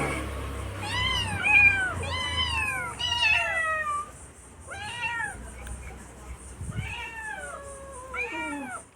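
Several stray cats fed at a home meow repeatedly and close by, their calls overlapping in bursts over a low background rumble.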